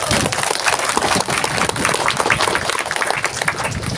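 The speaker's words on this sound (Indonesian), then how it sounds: "Kalau begini boleh tepuk tangan." An audience at an Isra Mi'raj religious lecture claps, a busy, close mix of overlapping hand claps that stays fairly loud and uneven throughout.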